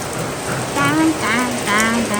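Steady heavy rain hisses throughout while a faint voice or tonal sound rises briefly over it.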